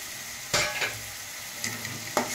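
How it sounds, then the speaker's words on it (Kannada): Tomato and curry leaves fry in a pan for an egg recipe, giving a soft, steady sizzle close by, broken by a few brief stirring scrapes. "ಒಂಚೂರು ಫ್ರೈ ಆಗಲಿ."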